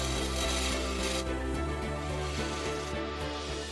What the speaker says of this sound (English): You stand at a bench with a vise, a hacksaw and a file, and you literally cut the fittings out one by one.